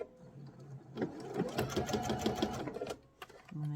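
Sewing machine stitching fabric for Bali bowls, running in a steady rapid burst of close, loud stitching with brief pauses before and after.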